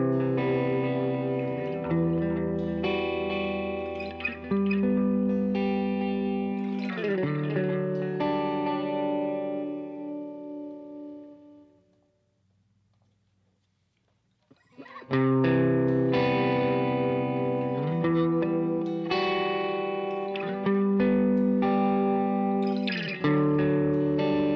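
Electric guitar chords through a wet-dry rig ring out with lush delay and reverb tails, trailing off into near silence before the playing resumes loudly.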